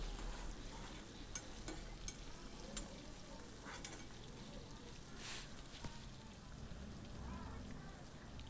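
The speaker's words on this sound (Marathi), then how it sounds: "हे पहा, व्यवस्थित मिरची आपण तळून घेणार आहोत एका साईडला." Green chillies frying in hot oil for sabudana khichdi give a soft, steady sizzle and crackle, faint and continuous with occasional stirring clicks, with no talk over it.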